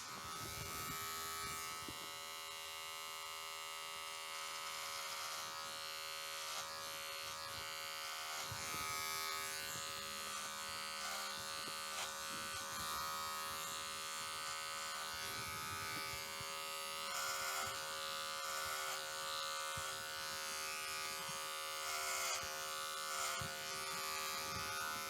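An electric hair clipper buzzes steadily while cutting hair for a skin fade in a barbershop, a close, continuous motorized whine with small shifts in pitch and texture as the blades move through hair.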